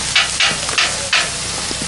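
Breakfast frying on a camp stove at a Michigan deer camp during rifle season: loud bursts of sizzle swell and fade in waves, with faint clinks of a utensil between them, close by, no talking.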